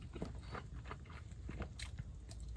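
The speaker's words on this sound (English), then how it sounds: "Let's take a good old bite on this chicken." A crunchy battered chicken wing from a cheap chip shop is bitten and chewed close to the microphone, with steady rhythmic crunching over a constant background hiss.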